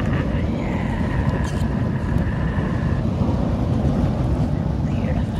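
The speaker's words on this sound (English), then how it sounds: "pardon the wind sound, but it's gonna be windy out here." Wind buffets the microphone outdoors at a windy cookout with a fire being lit, a constant low rumbling roar under faint background sounds, with no clear speech.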